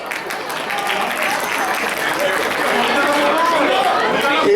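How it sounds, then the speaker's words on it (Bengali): An audience at a Durga Puja community gathering breaks into applause, dense clapping that builds and holds steady, with crowd chatter and voices mixed underneath. "তার জন্য একটা বিরাট হাততালি।"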